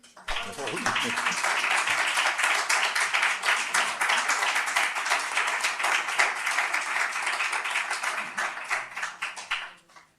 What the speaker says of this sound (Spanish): primero damos un aplauso